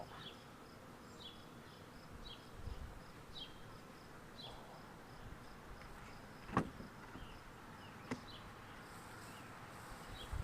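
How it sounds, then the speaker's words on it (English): Honeybees swarm outside their hive box, a faint, continuous low buzz with individual bees zipping past, plus a few soft knocks and clicks nearby; no speech. "we're trying to get all the bees to come in."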